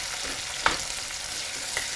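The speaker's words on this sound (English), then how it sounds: "So while the onions are sauteing here" Onions sautéing in oil with salt give a steady close sizzle, broken by a sharp scrape of stirring near the middle and a fainter one toward the end, with no talking.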